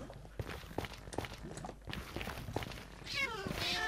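Cat in the video game Minecraft, a few short meows scattered among soft footstep-like taps, followed by a brief burst of sizzling noise at the end.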